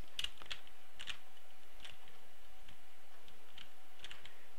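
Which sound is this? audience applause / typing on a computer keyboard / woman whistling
typing on a computer keyboard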